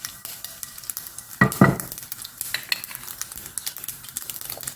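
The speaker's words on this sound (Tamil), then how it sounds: "சீரகம் போட்டுக்கோங்க இது நல்லா பொரிஞ்சு வரட்டும்" Cumin seeds crackle and sizzle steadily in hot oil, with a brief clatter of a spoon stirring the pan midway.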